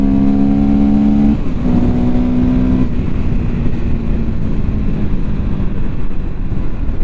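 A Fantic Caballero 500 Rally motorcycle engine holds a loud, steady high-rev drone that stutters and drops as it hits the rev limiter, heard close amid heavy wind rush.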